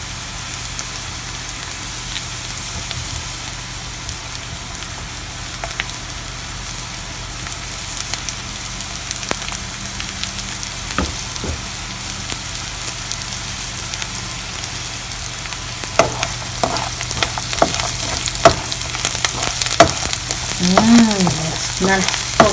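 Garlic sizzling in a hot pan during coconut rice preparation, a steady broadband frying hiss with scattered pops and sharper crackles toward the end, heard alone with no talking.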